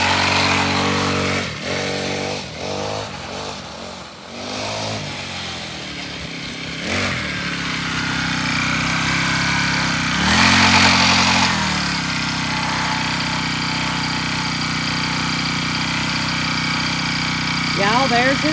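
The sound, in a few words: child's motorcycle being ridden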